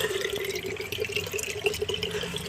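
Water splashes and trickles into a container, a faint close gurgle with small irregular drips.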